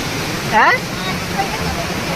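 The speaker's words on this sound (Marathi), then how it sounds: "आता एकदम जबरदस्त पूर आलेला आहे" Floodwater from a swollen river rushes in a steady, broad roar throughout, with a short burst of a voice near the start.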